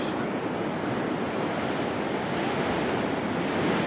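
Continuous roar of ocean waves and surf below Crystal Pier in San Diego, broad and steady, with wind buffeting the microphone.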